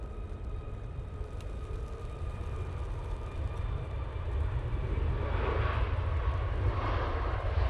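A Ryanair airliner at Manchester Airport roars steadily, its broad engine rumble building and growing louder toward the end, heard alone without talk.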